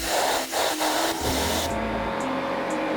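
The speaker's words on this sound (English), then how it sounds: "don't be afraid of the hissing. That's just the air compressor component." Steady broadband hiss of an air compressor component inside a power tool, loud and continuous, changing character partway through with low rumbling underneath and a couple of brief higher bursts near the end.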